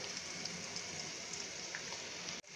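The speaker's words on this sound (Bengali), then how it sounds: "দুটো বড় পেঁয়াজ আমি কেটে রেখেছিলাম সেটা আমি দিয়ে দিয়েছি এখন এটা কিছুটা হালকা হাতে ভেজে নেব" Two large chopped onions fry gently in a pan, giving a faint, steady sizzle and crackle close by with no voices.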